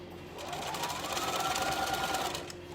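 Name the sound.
sewing machine stitching a second row on a skirt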